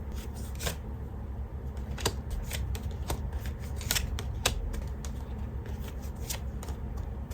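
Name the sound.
drawing tarot cards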